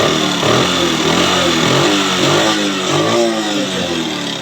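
A Bajaj CT 100 motorcycle engine after carburetor tuning, revving continuously and loud at close range, its pitch rising and falling in waves.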